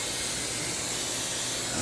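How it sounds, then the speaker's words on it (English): Spray butter is misted onto a pan of cornbread as one continuous, close, loud hiss that lasts under two seconds. "took a little butter, spray butter, or you can melt you down some butter"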